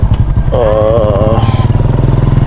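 A motorcycle engine idles close by with a steady, throbbing rumble, while a voice briefly speaks over it.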